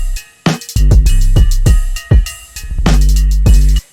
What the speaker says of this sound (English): And with the bells it sounds like this.